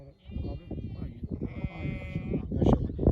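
Sheep bleating on a mountain summer pasture in the Black Sea highlands of Ordu, Turkey; several tonal bleats rise over steady outdoor conversation between men, with the animals fairly close and mostly under the talk.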